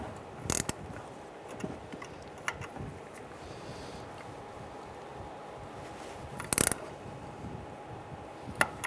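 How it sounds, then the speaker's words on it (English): A 1/4-inch wrench working a nut on top of a rear shock of a 2005-2010 Chrysler 300, giving a few sharp metallic clicks and clanks at irregular intervals over quiet garage ambience, close by, with no talking. "I want to go ahead and loosen and remove this nut"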